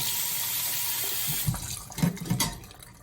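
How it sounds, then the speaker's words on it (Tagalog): Cold water streams steadily from a tap, splashing close by over green beans being rinsed to stop cooking, with a few clattering knocks and shifting sounds near the end. "Banlawan ng malamig na tubig para mahinto ang pagluluto."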